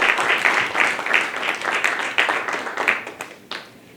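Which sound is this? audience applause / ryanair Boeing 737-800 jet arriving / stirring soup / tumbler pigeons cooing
audience applause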